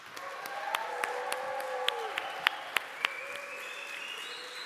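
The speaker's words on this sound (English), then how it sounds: "Please welcome them with a great applause" Audience applause at a project management presentation welcomes two presenters, a moderate, steady patter of clapping heard faintly from a distance, with sharp individual claps standing out and some tonal background sound running beneath.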